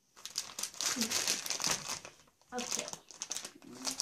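Paper crinkling while a Kinetic Sand kit is unpacked, close, busy rustling and crumpling in two bursts, with someone speaking briefly over it.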